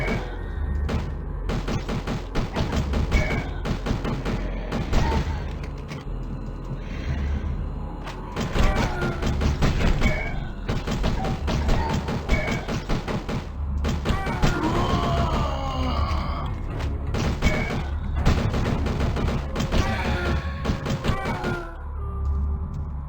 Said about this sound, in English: Slower rate of fire, but we hit about twice as hard.